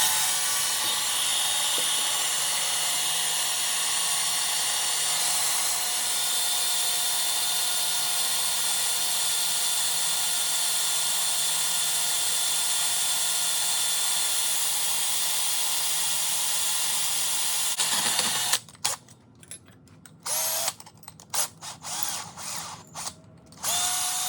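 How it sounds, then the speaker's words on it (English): A power drill bores a pilot hole into the steel frame of a 2003 Kia Spectra while fitting a trailer hitch, a steady high whine running for most of the stretch before breaking into short stop-start bursts near the end. "I always start by drilling a pilot hole"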